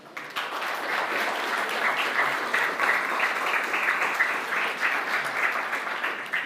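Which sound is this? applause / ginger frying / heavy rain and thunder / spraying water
applause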